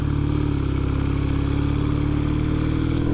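A 1965 Triumph Triton motorcycle idles close by, its engine giving a steady, even, throbbing loping beat throughout.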